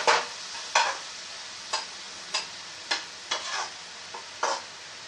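A spoon scrapes around a pot of palak chicken in a steady series of sharp, evenly spaced strokes, close and fairly loud over a soft background sizzle, with no talking.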